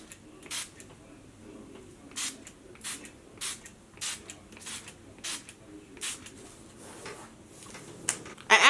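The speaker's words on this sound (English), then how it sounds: "So to spray my face, I'll be taking my Makeup Forever setting spray," Makeup Forever Mist and Fix setting spray is pumped onto a face in a string of about ten short, sharp hissing spritzes, fairly evenly spaced and close, with a brief louder rustle at the end.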